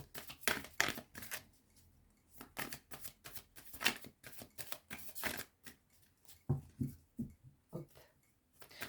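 Tarot cards shuffled by hand, quiet riffling and flicking bursts in an irregular rhythm, close and soft, with no talking.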